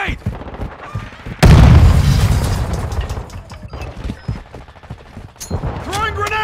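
Grenade explosions and gunfire in the Call of Duty: Modern Warfare II video game: a loud, booming blast followed by scattered gunshots and rattling bursts, with in-game voices shouting between them.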